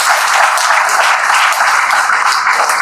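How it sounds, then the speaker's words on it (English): An audience at a college talk claps together in a dense, loud, sustained round of applause that carries evenly for a few seconds. "Shall we give a clap, please?"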